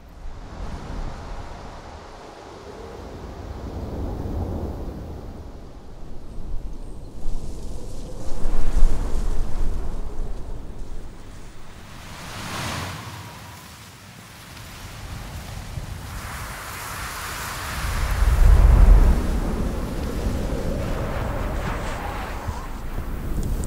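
Strong wind roars during a snowstorm beside a camper van in the open. Broad gusty rushing swells and fades across the whole stretch, with the heaviest blast near the end.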